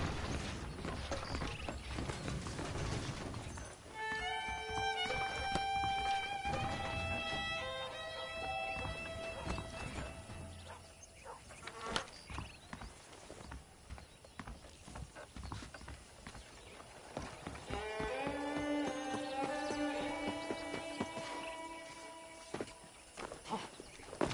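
Saddled horses walking in the video game Red Dead Redemption, a soft, faint clip-clop of hooves with quiet ambient game music swelling in and out behind them.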